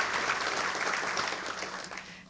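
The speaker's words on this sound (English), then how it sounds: "just give my staff a round of applause" An audience applauding a congressional district office staff during a State of the Fifth District address, a moderately faint, dense patter of clapping that fades slightly toward the end.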